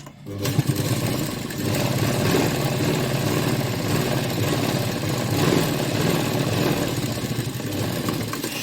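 A sewing machine runs steadily while stitching seams on a blouse, a continuous mid-pitched motor whir with a fine rapid needle chatter that holds without a break.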